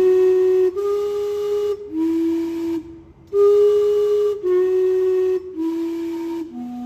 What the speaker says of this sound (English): This steam clock is supposed to whistle every half hour, and the steam comes from the top.